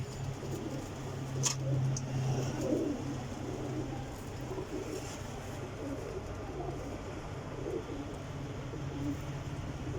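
Pigeons coo softly and continuously, a low murmuring hum from a flock kept in a loft, with a few faint higher clicks and a brief louder note near the start.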